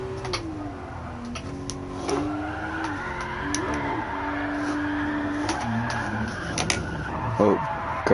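Tyres squeal and skid as a race car drifts in the GT Sport video game, with a steady engine note that rises and falls through the slides and a few brief ticking sounds, heard close and without any talk.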